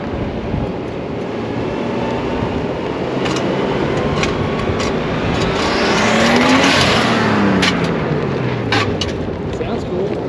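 A lowered Nissan Skyline R32 drives close by with a continuous engine drone and tire noise that swells slightly in the middle, accompanied by a few short sharp clicks and some voices.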